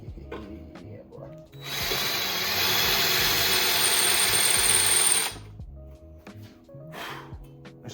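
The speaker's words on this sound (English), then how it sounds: "Let's get back to drilling." Power drill boring into an aftermarket ECU mount for an Acura RSX, a steady high-pitched whine running about four seconds alone, with workshop noise and brief talk before and after.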